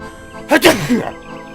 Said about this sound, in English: And I need to sneeze.